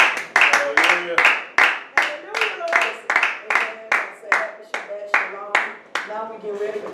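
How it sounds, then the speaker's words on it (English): A church congregation claps hands in praise during a worship service, a steady run of about fifteen sharp, close claps at an even rhythm, loud and clear with no talk over them. "Let's give Yahweh a hand clap of praise"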